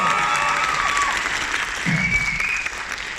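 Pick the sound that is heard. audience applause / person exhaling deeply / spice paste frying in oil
audience applause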